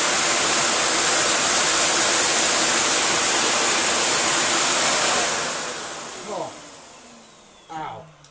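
A Samsung CyclonePower 2200W vacuum cleaner runs with a loud, steady roaring whine, then winds down and shuts off, followed by brief handling clatter.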